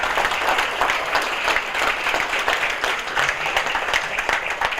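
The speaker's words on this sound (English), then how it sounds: "Round of applause, please." Audience applause at a charity dinner presentation, steady dense clapping from a room full of people, loud and even throughout.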